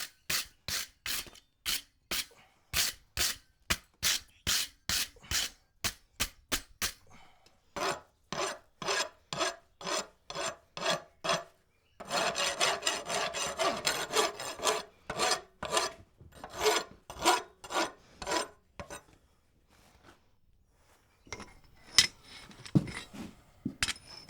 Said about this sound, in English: We'll do some hot rasping